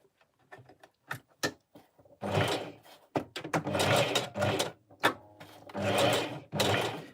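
A sewing machine runs zigzag stitching through a wig, with a few scattered clicks giving way to short bursts of buzzing stitching that start and stop several times.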